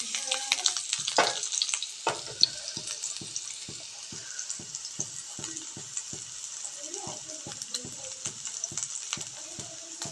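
Sliced shallots fry in hot oil for a Thrissur-style fish curry in coconut milk, giving a steady sizzle. A spoon stirs and scrapes in regular taps, and a faint voice is heard now and then.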